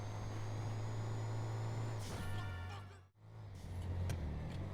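The Canis Kalahari off-road vehicle from GTA Online drives with a steady low engine drone and rumbling tyres. The pitch shifts as it moves, a brief dip in the middle and then it carries on. No voices are heard.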